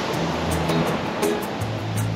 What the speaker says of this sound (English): This just have to wait for the sets of waves.